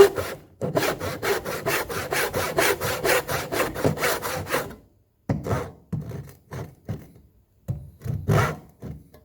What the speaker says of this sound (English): This is a fairly aggressive saw.